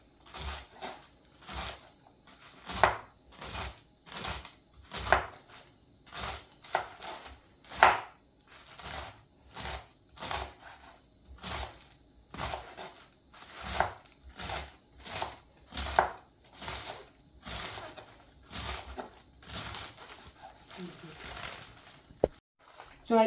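Knife finely chopping mustard greens on a cutting board, a quick run of crisp, regular taps repeating for over twenty seconds with short pauses, close and fairly quiet, a voice talking faintly at times.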